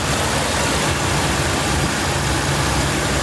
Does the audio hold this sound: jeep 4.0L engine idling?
yes